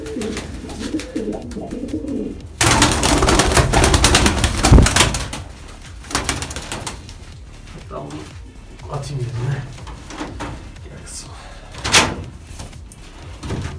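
Sabuni breeding pigeons, a newly bought hen among them, coo in an underground breeding loft, with scraping and door-like knocks and bursts of rustling nearby while someone talks throughout.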